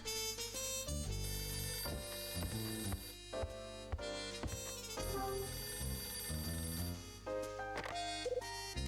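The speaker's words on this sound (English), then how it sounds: "It's my phone." A mobile phone rings in the Nintendo DS game The Last Window: The Secret of Cape West, a loud melodic ringtone playing continuously over dense game music, with no talking.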